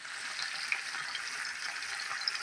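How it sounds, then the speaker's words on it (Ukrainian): Minced meat frying in a pan, a steady close sizzle with fine crackling spatters throughout and no talking. "далі обжарюю фарш окремо"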